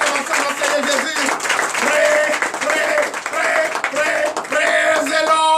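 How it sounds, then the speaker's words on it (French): A church congregation at a Sunday service in Comè, Benin claps and cheers in acclamation, a dense continuous wash of applause and raised voices with sustained singing or chanting tones running through it. "donnez de vive l'acclamation à notre Seigneur Jésus."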